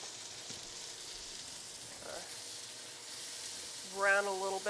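A soft, steady sizzle of charred cherry-glazed pork browning in a pan runs quietly throughout, with a brief clatter midway and a voice breaking in near the end.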